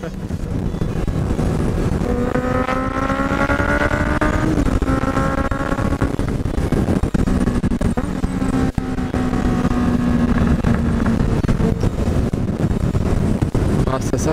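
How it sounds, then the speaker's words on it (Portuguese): A group of four-cylinder motorcycles rides together along a mountain road, engines droning and rising in pitch through gear changes under heavy wind rush, with a rider's voice briefly heard over it. "É a primeira vez que eu tô andando assim com tanto de moto 4 cilindros junto"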